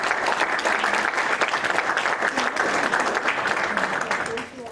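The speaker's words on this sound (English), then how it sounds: "help me give a welcome to warm applause to these guys" An audience at an evening talk on atomic intelligence operations gives the speakers a warm welcome, loud dense applause holding steady with some murmured voices before it tapers off at the close.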